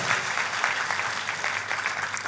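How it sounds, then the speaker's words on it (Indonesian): Congregation applause during an Indonesian church service, a dense, steady burst of clapping that fills the space for a couple of seconds without letting up. "tepuk tangannya pula yang paling meriah buat Tuhan kita"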